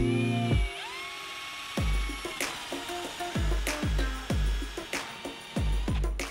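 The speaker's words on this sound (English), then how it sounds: "we'll use our 16mm spade bit again and drill some holes about 20 to 25mm deep." A 16mm spade bit bores holes about 20 to 25mm deep into a front door, the drill whining up in repeated loud bursts with short pauses between, each run starting with a sharp rising spin and chattering bite into the wood.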